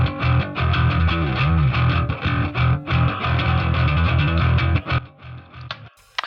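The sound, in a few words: bass guitar playing the same riff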